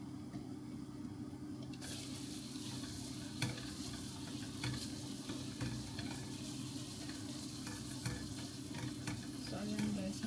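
Tomatoes frying over low heat in a pan sizzle softly and steadily while a utensil stirs them, with scattered scraping clicks, at low level and close by.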